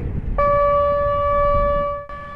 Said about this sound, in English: The tornado siren is working in Eagle